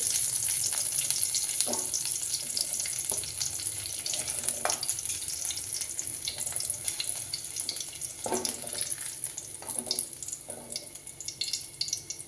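Paneer fries in hot oil in a pan, a steady bright sizzle running throughout with occasional stirring scrapes and clicks breaking in, and no one speaking.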